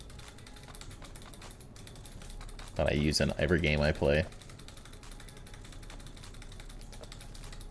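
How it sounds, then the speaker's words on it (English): Rapid, constant clicking of a mechanical keyboard runs close and steady throughout, with someone talking briefly over it midway. "hearing my mechanical keyboard be smashed constantly"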